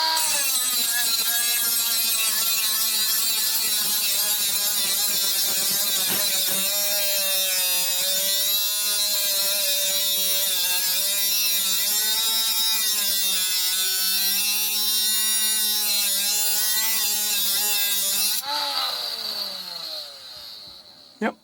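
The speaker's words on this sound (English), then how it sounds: "Yep, it does grinding." A 12V cordless mini angle grinder running on a recelled battery pack gives a loud, continuous high whine with wavering pitch for about eighteen seconds, then spins down and fades.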